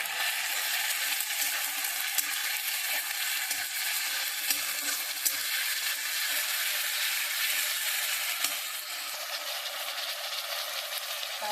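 Chicken curry masala sizzles steadily as it is sautéed in a pan, a dense, continuous frying hiss with faint stirring scrapes, close and even throughout.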